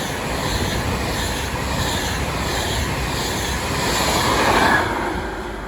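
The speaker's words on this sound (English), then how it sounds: "There we have 390-050 passing on a Avanti service from London Euston to Liverpool Lime Street" Class 390 Avanti electric train, unit 390-050, running from London Euston to Liverpool Lime Street, passes at speed on the West Coast Main Line at Stafford, a steady loud rushing roar that swells slightly near the end before easing.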